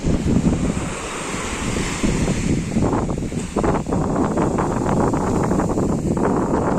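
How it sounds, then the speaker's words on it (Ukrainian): Warm sea waves wash and splash steadily on a beach, with wind buffeting the microphone and a constant broad rushing hiss. "Як же чудово розливається водичка. Яке ж тепле море."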